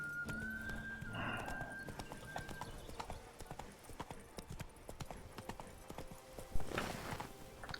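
Geralt's horse Roach gallops in The Witcher 3: Blood and Wine, a steady rapid clip-clop of hooves under game ambience, with a brief whinny near the start.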